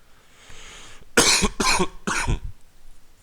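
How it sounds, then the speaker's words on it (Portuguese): Three harsh coughs in quick succession, close and loud, after a moment of quiet room tone. "Peço desculpa pela tosse mesmo, peço imensa desculpa"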